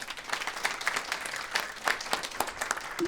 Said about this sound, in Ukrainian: У вас не дуже веселі оплески, розумієте?